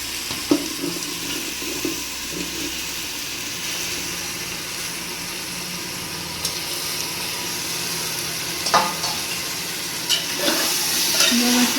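Marinated chicken with onion and salt sizzles steadily in a hot pan, with occasional stirring clinks and scrapes; no one speaks.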